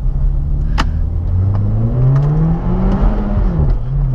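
A Hyundai Genesis with a 213 hp engine revs hard, recorded close at the exhaust, rising and falling in pitch through several loud sweeps of engine sound.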